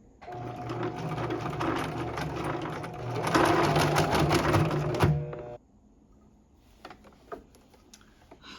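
A sewing machine stitches a bag in two loud, rapid bursts that stop abruptly about halfway through, followed by quieter clicks and handling noises.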